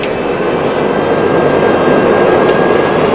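Airliner jet engines roar steadily through takeoff, a loud, continuous broadband rush heard from inside the cabin with no talking.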